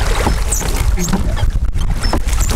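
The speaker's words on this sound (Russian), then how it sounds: "и гребу по протоку" Water sloshing and splashing close by as oars dip and pull through a channel on Lake Onega, with a steady rhythmic churn.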